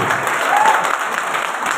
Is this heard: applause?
yes